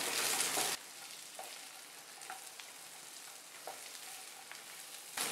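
Drumsticks coated in spice masala frying and stirred in a pan: a loud sizzle at the start drops to a steady low hiss, with scattered soft scrapes and taps of stirring, then another burst of sizzle at the end.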